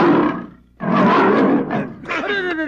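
A loud, full tiger roar sound effect, two long rumbling bursts separated by a brief pause, followed by growling with voice-like overtones that may be a person imitating the cat.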